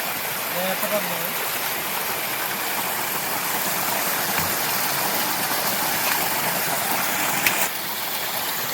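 A natural stream flows steadily at a makeshift outdoor shower, giving a constant broadband rush of water from start to finish, with brief faint voices early on.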